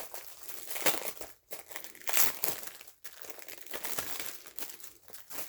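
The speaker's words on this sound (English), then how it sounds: "Figure out how to get this plastic off." Plastic packaging being crinkled and pulled off a store purchase, close and fairly quiet, with bursts of crackling and tearing separated by brief pauses.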